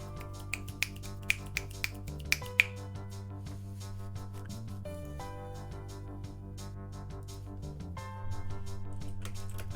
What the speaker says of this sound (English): A round of the finger snaps.